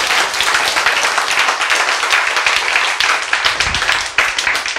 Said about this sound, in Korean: 박수 치세요.